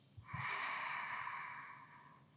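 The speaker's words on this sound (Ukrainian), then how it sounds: "Повільний видих." A slow, steady exhale during a yoga breathing exercise, a soft breathy rush that swells and holds for about two seconds before fading, close to the microphone, with no talking.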